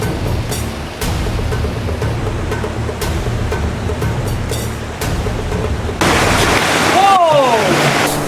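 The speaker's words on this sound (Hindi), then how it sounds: "जरा पास आके दिखाना झरना कितनी दूर है ये।" A waterfall on a river deep in a jungle pours as a steady, loud roar of rushing water, with the rumble swelling and brightening near the end as the camera draws closer.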